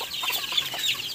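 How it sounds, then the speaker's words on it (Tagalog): Chickens newly bought and kept in a coop, clucking steadily in a close, continuous chorus of overlapping calls with no talking. "Mayroon tayong mga bagong nabiling manok guys."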